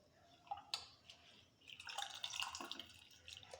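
Water trickles and splashes into a vessel holding scented pink rose petals at home, a few quiet drips giving way to a soft, close, steady pour with no one speaking.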